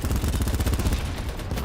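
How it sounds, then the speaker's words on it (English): Automatic gunfire in the shooter game BattleBit, fired through a wall: a steady rhythmic stream of muffled shots, continuous and fairly loud, thinning slightly toward the end. "He's trying to shoot me through the wall."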